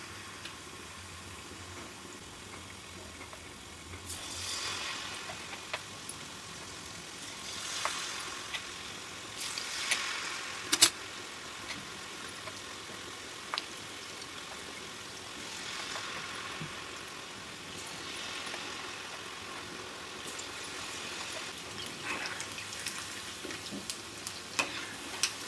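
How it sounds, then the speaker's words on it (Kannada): Poornam, sweet filled dumplings in a thin batter coating, deep-fry in oil with a soft, steady bubbling sizzle, fairly faint, with occasional brief crackles and stirring clinks. "ಇದನ್ನು ಎಣ್ಣೆಲಿ ಫ್ರೈ ಮಾಡಬೇಕು"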